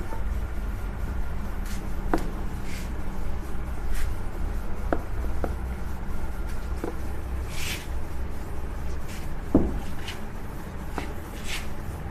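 Math questions are written out on a board in a classroom lesson, with soft intermittent scratching strokes and taps over a steady low background hum and no talking.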